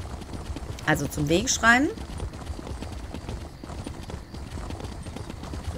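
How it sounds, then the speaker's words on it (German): Horse hooves galloping in The Elder Scrolls Online, a steady fast clip-clop running throughout at moderate level, with a brief whinny near the start and someone speaking German over it. "dann reiten wir mal wieder zurück"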